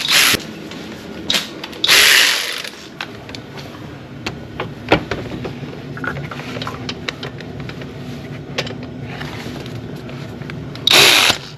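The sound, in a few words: power tool with E12 socket removing Mercedes belt tensioner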